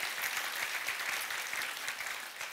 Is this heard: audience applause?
yes